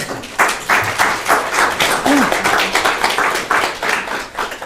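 An audience at a university drama and education symposium claps after a speaker is introduced, a fairly close burst of applause holding steady with uneven rhythm throughout.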